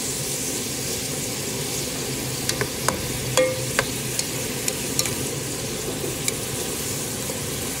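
Chicken gizzards sizzle steadily in a hot pan, a constant frying hiss with a few sharp spatula clicks and scrapes scattered through the middle, close up and without talk.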